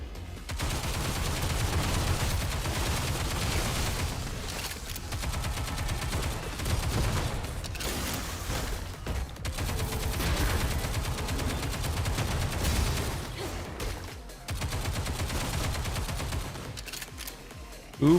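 Sustained gunfire from a gun in the action game Stellar Blade, a dense, rapid chatter of shots rattling on almost without pause for many seconds, loud and close, with brief gaps between bursts.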